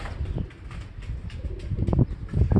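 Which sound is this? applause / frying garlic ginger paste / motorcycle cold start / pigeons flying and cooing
pigeons flying and cooing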